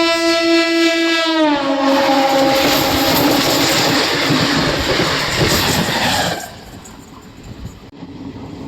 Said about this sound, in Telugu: మన ట్రైన్ అయితే బయలుదేరిందో లేదో నర్సాపూర్ నుండి